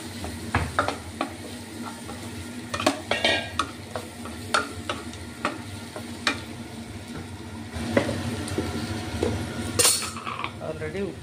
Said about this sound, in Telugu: ఇప్పుడు అన్నీ కలిపి మళ్ళీ కాసేపు వేయించుకుందాం.